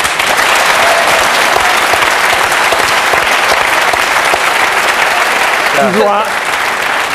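A large audience at a television music show claps steadily and loudly throughout, a dense continuous wash of applause with a brief vocal cry near the end.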